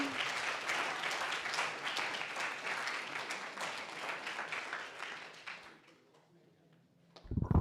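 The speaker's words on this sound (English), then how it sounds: "Can we get a round of applause?" Sustained audience applause at a symposium fills the room for about six seconds, then fades out, followed by a brief sharp sound near the end.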